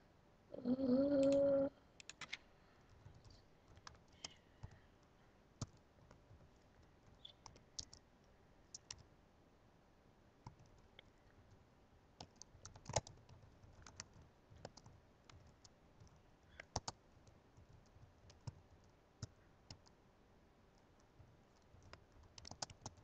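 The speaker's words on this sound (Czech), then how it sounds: "jenom jsem tady něco napisoval na Skype" Quick typing of a Skype message on a computer keyboard, heard as faint, scattered clicking taps in irregular bursts after a brief louder sound at the start, with no talk over it.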